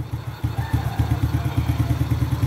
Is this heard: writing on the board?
no